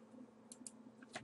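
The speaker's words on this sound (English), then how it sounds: "typing in the dark here." A few faint, scattered clicks of typing on a computer keyboard come through softly in a quiet room with a low steady hum underneath and no talking.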